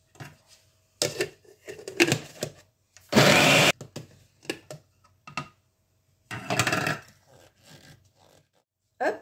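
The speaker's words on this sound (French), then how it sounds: "et on mixe tout." An electric blender whirs in short loud bursts and one longer full-power run while blending ranch sauce with mustard, parsley and chives, with quiet clicks and pauses between pulses.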